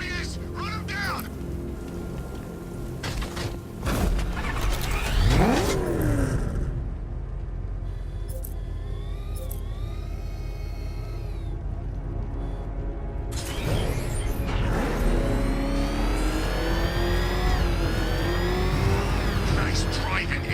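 A car roars and revs in Batman: Arkham Knight, with the engine sweeping up and down through loud acceleration, crashes and mechanical clatter, under game voices.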